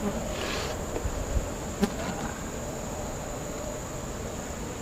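A steady, soft drone of many honeybees buzzing together at an open five-frame hive during inspection, close and continuous, with a few faint clicks and rustles.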